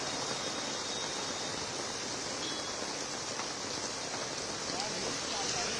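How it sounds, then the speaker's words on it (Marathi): Dense, steady monsoon downpour in Mumbai hisses without letup, a constant wash of noise with a voice faintly audible beneath it. "गेल्या काही वेळापासून मुसळधार पाऊस आहे तो मुंबईमध्ये सुरू झालेला आहे"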